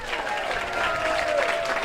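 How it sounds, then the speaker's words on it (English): A short burst of applause from a small audience, moderately loud and steady for under two seconds. "so we're going to pause right now for a little applause."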